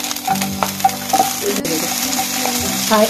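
Chili with ginger and garlic frying in a pan for Chinese paneer pasta, a loud steady sizzle with clattering and scraping stirring, close and busy, no talking.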